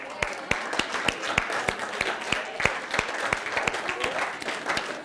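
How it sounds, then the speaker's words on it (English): An audience at a church teaching session gives sustained applause, with many individual claps landing in a quick, uneven rhythm over a soft crowd murmur, at a moderate level throughout. "Let's give you all a big clap then."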